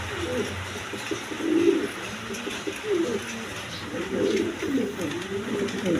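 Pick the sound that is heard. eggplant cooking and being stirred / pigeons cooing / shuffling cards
pigeons cooing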